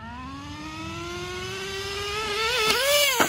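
Nitro RC model engine firing up with a rising buzzy whine that climbs steadily in pitch, then sputters and dips twice near the end, close and fairly loud.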